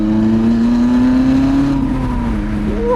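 A Lotus Elise engine revs loudly up close while downshifting, its pitch climbing and then dropping in a continuous, throaty drone.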